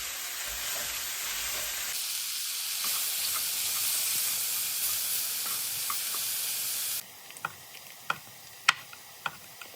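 Ground beef frying with mushrooms and garlic in a pan for grilled cheese sandwiches gives a soft, steady sizzle, shifting in level partway through and ending with a few sharp utensil clicks and taps; no one speaks.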